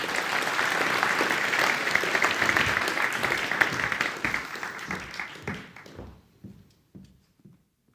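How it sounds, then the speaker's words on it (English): A room of attendees at the 2023 New Zealand Economics Forum gives a dense, sustained round of applause that thins into a few scattered claps and fades out, with some faint voices. "why don't we just have a round of applause for Nicola Willis"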